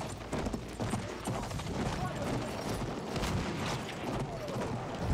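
Horse hooves clip-clop rhythmically in the Battlefield 1 video game, blended with dense mechanical clatter and distant gunfire throughout.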